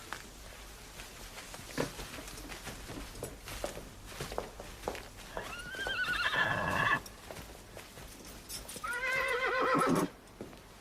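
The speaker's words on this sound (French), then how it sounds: "Pierre, étrille le cheval de messire Baglioni." A horse whinnies twice, loud and close, the calls rising and falling over scattered hoof clops and shuffling.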